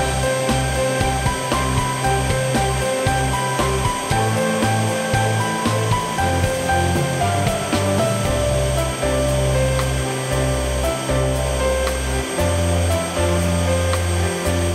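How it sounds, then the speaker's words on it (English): An ultrasonic elastic-attachment machine running on a high-speed production line gives a loud, continuous mechanical drone with a steady tonal hum and rhythmic low thumping throughout. "Even when line disruptions occur, the ultrasonic process continuously attaches the elastic strands."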